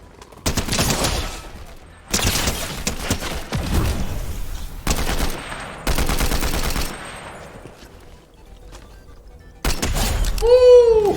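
Combat assault rifle bursts ring out in a Fortnite-style zero-build shooter game, loud repeated volleys in several blocks separated by short gaps, ending with a final burst and a rising electronic effect.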